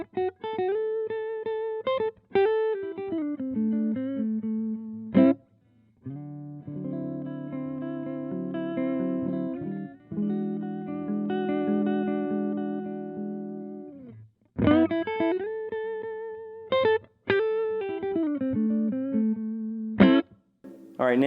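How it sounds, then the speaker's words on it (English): Electric guitar played dry through a Devilcat Mean Jean amplifier with no reverb, distorted chords and riffs in loud phrases that stop abruptly, with held chords in the middle and sharp breaks of silence between. "now I'm playing the amp right now with no reverb"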